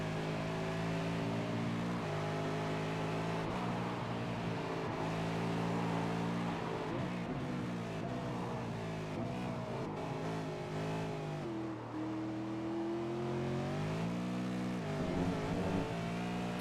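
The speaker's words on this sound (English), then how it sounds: "just listen to the throttle application that these guys do" A 2012 V8 Supercar engine drones steadily through a hot lap at Mosport. The throttle is feathered, eased off and then planted again as the revs rise and fall, heard from a constant onboard distance with no talking.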